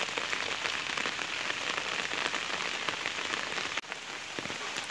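Heavy rain falls on a village road in India, a constant close patter of drops hitting surfaces at an even intensity, with no one talking.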